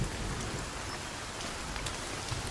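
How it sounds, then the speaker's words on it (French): Steady rain falls in the survival game Sons Of The Forest, a dense, even hiss of drops on surfaces, with no talk over it. "Ah bah voilà, la pluie se calme."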